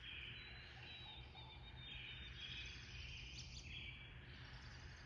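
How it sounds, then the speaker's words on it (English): Birds chirping at sunrise around 7 a.m., faint thin repeated calls and tweets over a steady hiss of insect-like background noise, no voices. "Birds are chirping."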